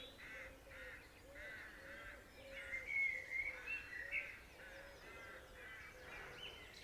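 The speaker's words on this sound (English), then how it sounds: "Can you hear the birds?" Birds calling from trees along a roadway in Ardee, Ireland, a steady run of repeated chirps and caw-like calls at moderate distance, with soft outdoor background.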